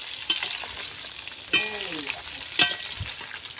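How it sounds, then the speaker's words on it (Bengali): Spices roast lightly in a pan as the base for mango pickle oil, giving a soft close sizzle broken by a few sharp scrapes and clinks of a spatula stirring them. "কিছুক্ষণ একটু রোস্ট করে নেওয়ার পরে দেখতেই পাচ্ছে বেশিক্ষণ রোস্ট করার দরকার নেই একটু হালকা মতন একটু ভেজে নিলেই হবে"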